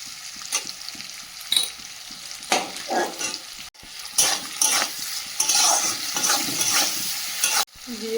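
Chopped onion with salt hisses and sizzles in hot oil in a kadai, a loud steady fry punctuated by spatula scrapes and stirring knocks close by.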